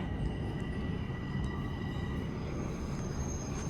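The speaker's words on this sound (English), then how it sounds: "So here comes a southbound train." A Toronto TTC subway train arrives at an underground station, rumbling loudly and steadily nearby, with a low roar of wheels on track and faint high metallic squeals above it.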